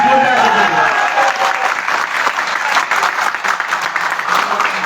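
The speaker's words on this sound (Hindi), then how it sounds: "एक बार तालियां बजा के एक बार देखिए।" A crowd at a motivational session in Agra breaks into loud, close applause that swells and continues steadily, while a voice speaks at the start.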